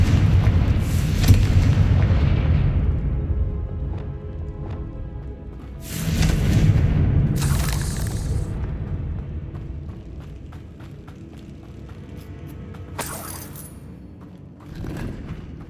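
Confringo blasting-spell explosions in Hogwarts Legacy: several heavy booms, each followed by a rumbling decay, landing at intervals over a continuous low ambient roar, loud and nearby.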